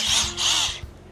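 A brushless cordless electric drill whirs in two close, steady bursts with a short dip between them, running alone at high speed.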